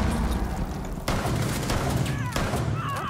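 A nitro cell detonates in Rainbow Six Siege, giving two sharp, loud blasts about a second apart over a steady bed of game noise.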